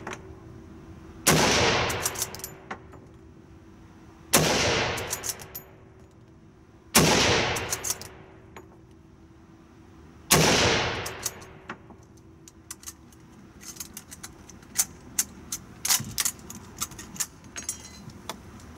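A French Berthier M16 carbine in 8x50R Lebel fires rapidly: four loud, sharp cracks a few seconds apart, each ringing out, followed by clicking and rattling of bolt work and reloading, close with no talk.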